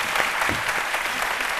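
A television studio audience applauds a guest named Eva Sita, with steady, dense clapping that stays loud and even throughout the short stretch.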